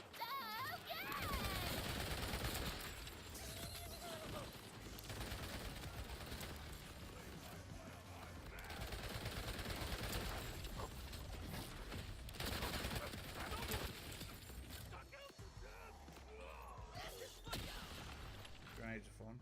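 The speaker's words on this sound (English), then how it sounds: "Grenades are fun." Borderlands 4 combat rattles with sustained gunfire, clattering mechanical bursts and shattering blasts from grenades, loud and dense across the whole stretch with brief lulls, while voices talk intermittently underneath.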